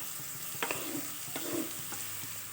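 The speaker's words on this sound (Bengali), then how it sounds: "দিয়ে আর একটু নেড়ে চেড়ে নিচ্ছি" Carrots and beans being stirred in hot oil for mixed fried rice, a steady sizzle broken by a few sharp scraping strokes of the spoon against the pan, close and clear with no talking.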